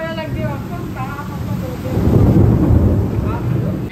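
Rain falls steadily with low rumbling thunder, and cold wind blows at a rooftop. The sound is a dense, continuous wash that grows heavier midway, and voices talk over it.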